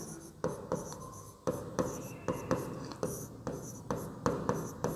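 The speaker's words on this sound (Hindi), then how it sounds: "यहाँ पे लिखेंगे" Quick strokes of writing on a classroom board during a lesson about galaxies, a run of about ten short scratchy bursts separated by brief pauses, close and clear with no talking.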